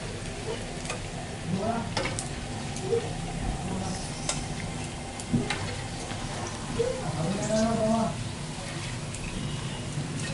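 Beef serundeng fries in a pan with a steady sizzle, broken by scraping and stirring sounds and light clinks, and a voice talks intermittently over it.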